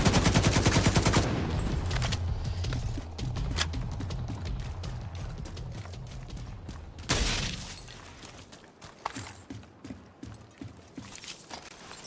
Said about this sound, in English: That is a turret.